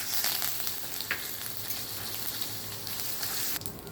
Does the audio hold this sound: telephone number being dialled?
no